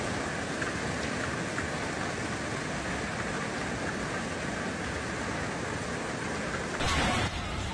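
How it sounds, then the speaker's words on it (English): Heavy hailstorm in Rio Grande do Sul, Brazil: a dense, unbroken roar of hail pounding surfaces, loud and constant throughout, briefly intensifying near the end. "Heavy hail struck Baga in Rio Grande do Sul,"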